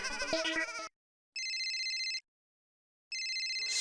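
A phone rings with bright, repeating electronic tones in two separated bursts, following a short bleat-like musical jingle, and a brief rustle at the end.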